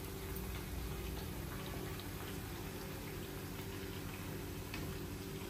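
Corn fritters (jonna garelu) fry in hot oil, giving a dense, continuous sizzle and crackle with fine popping throughout, close and steady, with no talking.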